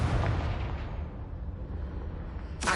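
A Confringo blast spell goes off in Hogwarts Legacy, a loud rumbling explosion that fades into a long low roar, followed by a sharp new burst at the very end.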